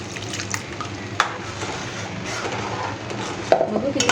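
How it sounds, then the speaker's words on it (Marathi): A spoon stirs and mixes food in a pot, with soft scraping and a few sharp knocks against the side over a low sizzle. "आता ते भांड्यामध्ये आणखी पाणी घाल आणि मिसळून घे"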